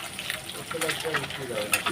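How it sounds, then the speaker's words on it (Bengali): Eggs frying in a kadai, a soft steady sizzle close by, broken by a few brief clinks and light bubbling sounds. "এদিকে কড়াই বসিয়ে দিয়েছি এটার মধ্যে এখন ডিমগুলো ভেজে নেবো"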